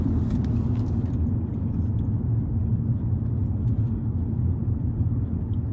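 Steady low engine rumble and road noise from inside a car cruising through streets at night looking at Christmas lights, constant and close with no talking.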